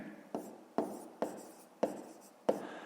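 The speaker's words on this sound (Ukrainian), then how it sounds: "Ну і пишемо" Pen strokes on paper during a fifth-grade math exercise come as five distinct, close, quiet scratching strokes at a steady rhythm.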